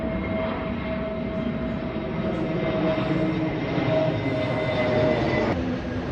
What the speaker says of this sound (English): It's on the flight path of Manchester Airport.